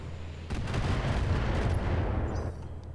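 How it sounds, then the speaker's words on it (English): Long range missiles launching in the BattleTech video game: after half a second of low engine hum, a loud rumbling barrage of rapid launches and blasts rolls on for about two seconds and then eases off. "Long range missiles, baby."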